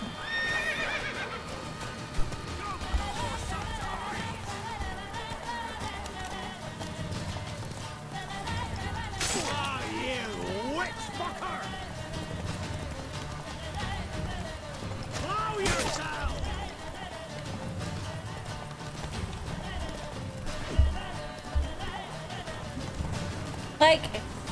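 Horse neighing and hooves clip-clopping in The Witcher 3 video game, heard among game music and effects with a few sharp hits, while someone talks over it throughout.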